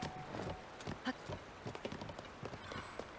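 Hooves of a horse in Zelda: Tears of the Kingdom clop in a quick, uneven run, fairly quiet and close, with soft game ambience behind.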